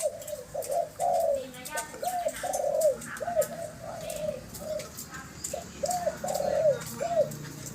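A pet dove or pigeon coos indoors, a close series of rhythmic, rolling coos repeated in phrases with short gaps, over a low room hum.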